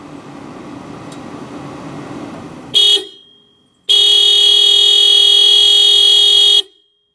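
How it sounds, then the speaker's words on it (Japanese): A Toyota Prius (50 series) double horn blares twice, close and loud: a short blast, a brief pause, then a longer sustained honk with a bright, slightly thin, cheap-sounding tone. "クラクションは、ダブルホーンですが、少し安っぽい感じがします。"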